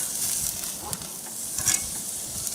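Steak searing on a Big Green Egg grill, a steady close sizzle and hiss running throughout with a few brief louder crackles as the meat is flipped.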